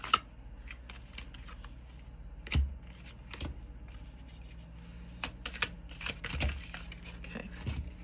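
A deck of cards is shuffled nearby in a quiet room, with repeated soft riffling bursts, papery flicks and taps coming in an uneven rhythm.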